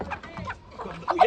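Chickens on a farm give short clucks, louder toward the end of the brief moment, with some handling noise and a nearby person around them.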